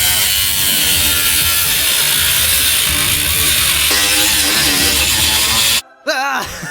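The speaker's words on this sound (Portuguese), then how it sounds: "E finalmente, cortando a coluna traseira." A power tool cutting through the rear pillar of a wrecked Rolls Royce gives a loud, continuous, harsh buzzing grind close by, which stops abruptly near the end before a short burst of whining.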